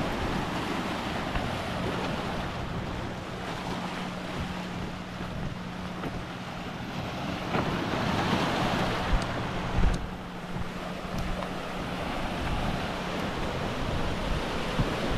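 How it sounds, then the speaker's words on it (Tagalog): Sea waves wash steadily onto a rocky shore, a continuous rushing surf with gusty wind buffeting the microphone and a slight swell midway; no one speaks. "Yung sampa ng alon punta dito"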